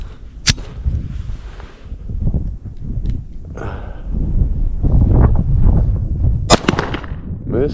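A Springfield Hellcat Pro pistol fires slowly outdoors, two sharp loud cracks several seconds apart, with rumbling wind noise on the microphone and a little talk between shots.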